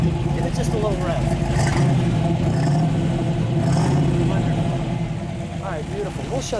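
A 1962 Chevrolet Corvette engine with solid lifters and an open cam runs steadily close by, with a low, loping idle and a light rise in revs. People talk over it.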